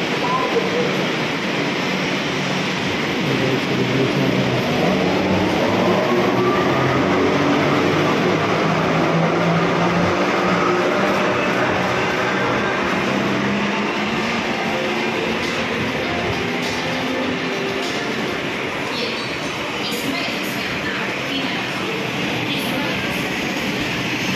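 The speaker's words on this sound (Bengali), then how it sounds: "এই মেট্রো লাইন, মেট্রো প্রবেশ করেছে মেট্রো" A Kolkata metro train pulls into the station with a loud, continuous rumble and a whine that shifts in pitch as it arrives, in the echoing space of the platform.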